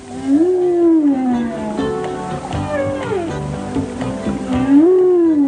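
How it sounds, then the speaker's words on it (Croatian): Humpback whale song: long, sweeping moans that rise and fall in pitch, repeating slowly over a low, murky underwater background. "Pesma grbavog kita može da bude vrlo duga i komplikovana."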